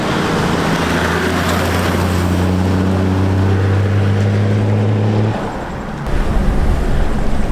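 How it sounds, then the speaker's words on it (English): Straight-piped 1HDT Land Cruiser diesel turbo engine on a 3-inch exhaust, a loud steady drone under acceleration with a rising turbo whine, then easing off to a lower rumble near the end. "Dude, you hear the turbo so much."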